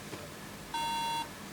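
A MacBook Pro 13-inch Mid 2012 with liquid damage and a bad keyboard connector gives a single steady electronic beep of about half a second, clear above a quiet background hiss.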